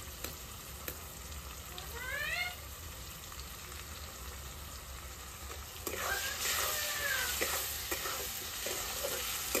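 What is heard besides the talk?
frying ginger-garlic paste, cumin and chili powder in a pan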